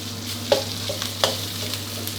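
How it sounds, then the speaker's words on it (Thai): Thai red curry paste is stir-fried over medium heat in a pan for catfish phat phrik khing, a low steady sizzle with a low hum beneath and a few light spatula scrapes and taps. "ใช้ไฟกลางๆนะครับผัดพริกแกงไปเรื่อยๆให้ออกกลิ่นหอมดีนะครับ"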